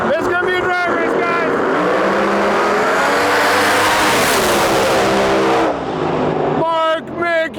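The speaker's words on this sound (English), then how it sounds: "This is gonna be a drag race" Drag race cars, one of them a 1969 Chevelle, launch down the track at an outlaw drag racing event with a loud, sustained engine roar that rises and fades, and an announcer talks at the start and end.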